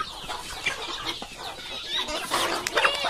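A large young rooster clucks and squawks up close among other fowl in a farm setting, in busy, scratchy bursts that grow louder toward the end.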